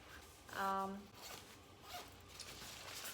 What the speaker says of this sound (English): this is the double zip, the second zipper here, which again extends the size of the packing cube